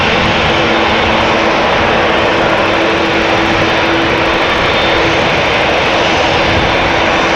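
A big KLM jet airliner's engines drone loud and steady at Amsterdam Schiphol Airport, a constant roar with a low whine running through it and no pauses.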